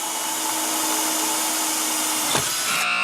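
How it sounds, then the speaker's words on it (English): A power drill bores through a pull bar held in a drill jig, a steady high whine running continuously with a brief change in pitch near the end, close and alone without talk. "drill halfway through from one side, and then if you turn it over, drill again from the other side"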